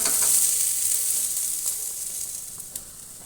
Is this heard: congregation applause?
no